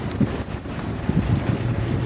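Wind buffets through open car windows as the car drives along, a continuous rumbling roar with gusty low-pitched thumps against the microphone, loud and close throughout.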